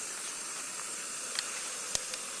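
A Jetboil Flash gas stove burner hisses steadily and evenly after its piezo igniter is clicked, with a few faint ticks over the constant rushing flame.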